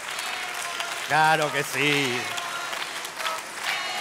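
A theatre audience at a comedy show applauds in a broad wash of clapping that runs throughout, while someone speaks briefly over it.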